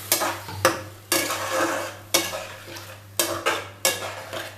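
Spice paste frying in a pan for cauliflower with prawn, stirred with a spoon that clanks against the pan about every second, each knock followed by a wet sizzling scrape, close and fairly loud.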